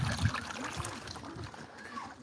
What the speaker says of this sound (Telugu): వాటర్ సౌండ్ ఉందండి.